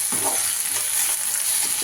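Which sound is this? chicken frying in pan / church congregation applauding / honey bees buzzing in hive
chicken frying in pan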